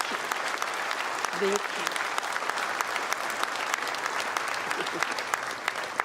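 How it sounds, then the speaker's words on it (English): A crowd applauds steadily with dense, continuous clapping, while a voice briefly speaks over it. "Please give another round of applause"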